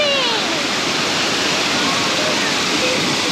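Water rushes steadily across a roadside water crossing on a Cape York track, a loud, constant broadband wash that fills the whole stretch with no pauses.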